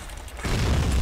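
A musket volley from a line of soldiers in an American Civil War game mod bursts in as a loud, sustained booming crackle after a brief quieter lead-in.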